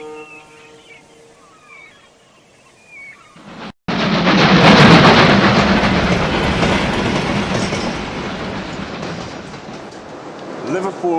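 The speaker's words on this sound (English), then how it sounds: "Liverpool Street Station." Trains rumble through Liverpool Street Station in London, a loud, sustained clatter of wheels and carriages after a quieter opening with distant sounds and a brief break, continuing steadily to the end.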